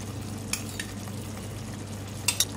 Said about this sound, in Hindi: 3 टेबलस्पून दही लिया है मैंने, इसको मैं फेंट के डालूंगी इसमें